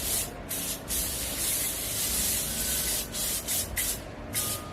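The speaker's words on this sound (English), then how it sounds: "spray your oil on the wig like this" Oil from a spray bottle misted onto a twisted wig, a close, continuous hiss in several long bursts separated by brief pauses.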